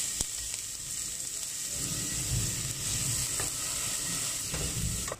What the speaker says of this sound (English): The oil is hot, I'm going to add in the onions.